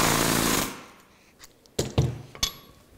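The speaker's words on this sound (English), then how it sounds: "one thing to remember when you're using a rivet gun is they are noisy" A pneumatic rivet gun drives a round head rivet in a burst of loud rapid hammering that cuts off, followed by a few sharp metallic knocks and clinks nearby.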